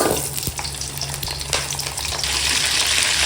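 Fenugreek, onion, garlic and curry leaves sizzle and crackle in hot oil, a dense steady frying hiss with a few sharp pops, no voices.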